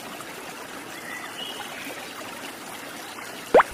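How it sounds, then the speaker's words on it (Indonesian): Swiftly flowing river water makes a steady, soft rushing trickle that holds even throughout, with a brief sharp knock near the end. "sungai yang airnya mengalir cukup deras"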